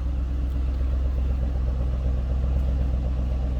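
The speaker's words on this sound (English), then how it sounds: "Nice little throaty growl coming out of that exhaust." A 2008 Ford Mustang Bullitt idling with a steady, loud, deep exhaust rumble held evenly throughout, close up and with no talk over it.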